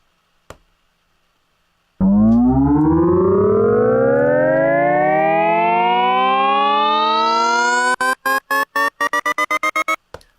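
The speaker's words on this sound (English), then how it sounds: "Here's the first layer, is a synth riser from Operator." A synth riser built in Ableton Operator sweeps steadily upward in pitch for about six seconds, loud and alone, then breaks into rapid rhythmic chops gated by AutoPan before stopping.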